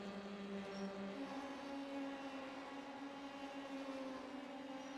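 Race cars drive through the Moss curves onto the back straightaway, engines droning at a distance as a steady, faint whine with a pitch shift partway through.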